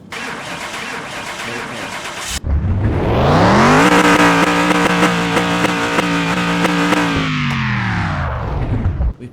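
Car engine cranks and catches after someone speaks briefly, then revs up to a loud steady roar that holds and eases slightly before settling, close and dominant.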